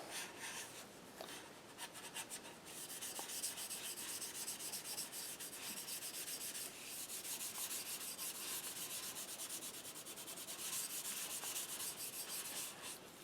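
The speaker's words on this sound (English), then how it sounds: "After we get your flute sanded, just like that." Steady abrasive rubbing of sandpaper on a handmade wooden Native American flute during shaping, a continuous close scratchy hiss with slight surges in pressure and no pauses.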